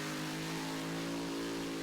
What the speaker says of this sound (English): Oh, listen to that motor scream.